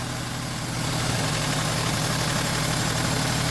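An Opel Vectra A 1.6 engine idles steadily with the distributor being turned, giving a close, continuous low rumble whose pitch shifts only slightly, with no talk.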